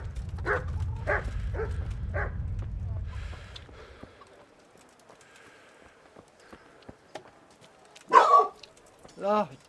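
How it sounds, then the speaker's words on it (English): A dog barks a couple of times in a fantasy video game, clear and fairly close near the end, after earlier footsteps and movement sounds, with no talking over it. "Oh, dog, do you have to do this right now?"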